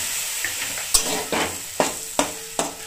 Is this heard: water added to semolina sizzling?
yes